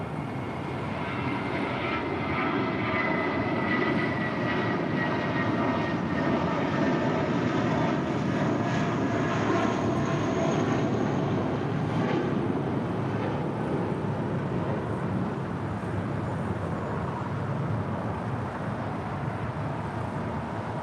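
A JetBlue Airways airliner, flight 1732, takes off at LAX, its jet engines holding a loud, continuous broad roar for about twenty seconds with a whining edge that fades a little toward the end.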